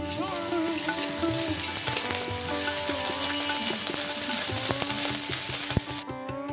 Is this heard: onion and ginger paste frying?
yes